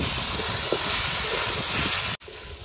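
Ground coriander-cumin, black pepper, ginger and dried red chili pastes fry in oil in a pan for a desi chicken curry, giving a loud, continuous sizzling hiss that briefly cuts out near the end.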